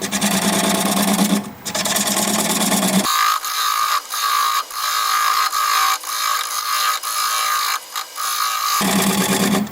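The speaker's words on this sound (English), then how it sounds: "I'm going to grab a 3/8 inch bowl gouge and commence removing that tenon" A 3/8 inch bowl gouge cuts away a tenon on hard driftwood spinning on a wood lathe, a loud continuous buzzing whir with brief pauses and repeated catches as the tool meets the wood.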